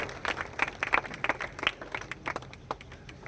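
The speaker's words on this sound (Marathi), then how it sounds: "त्यांच्यासाठी जोरदार टाळ्या वाजवून आपण त्यांचं स्वागत करावं" An audience at a political rally applauds to welcome a member of parliament, with dense, loud clapping that rises and falls over a few seconds.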